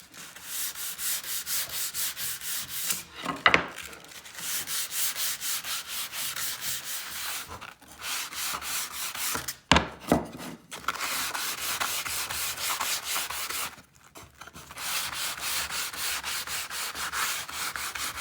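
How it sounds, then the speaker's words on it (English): Sanding wood for a DIY shoe and coat rack, a steady, loud abrasive rubbing that runs almost without break, with a few short pauses, and no voices. "Then I'm going to sand a little bit now."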